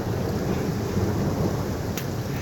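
A thunderstorm in Tennessee brings a steady, dense rumble of thunder under constant rain, loud and continuous throughout.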